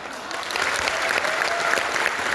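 Loud, sustained applause from an audience at a Safe Shop business event honouring a leader, dense steady clapping filling the whole moment without pause.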